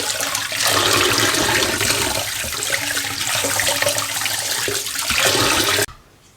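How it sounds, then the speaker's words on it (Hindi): Tap water runs hard over mutton liver being washed in a strainer, a loud, continuous splashing rush with small clatters, cutting off sharply near the end. "खुले पानी से धोना है इस तरीके से।"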